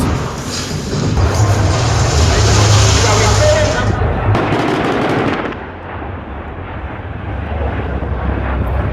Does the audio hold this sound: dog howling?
no